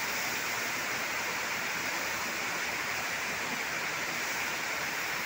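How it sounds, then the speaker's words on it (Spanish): Tobacco paste boils hard in the second of several large industrial vats, a dense, steady roiling hiss that holds at the same level throughout with no voices. "Fíjense cómo hierve la segunda paila."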